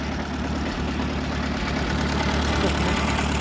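A Farmall F-12 tractor idles steadily nearby with its PTO pulley turning, a loud, even low-pitched chugging with a rapid regular beat throughout.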